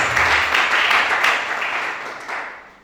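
A church congregation at a worship service applauds, a dense wash of clapping that starts full and slowly thins out over a few seconds.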